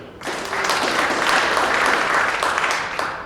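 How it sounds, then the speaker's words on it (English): Audience applause for retirees at a campus awards ceremony, a steady wash of clapping from a crowd that rises quickly and holds for about three seconds. "let's clap each one"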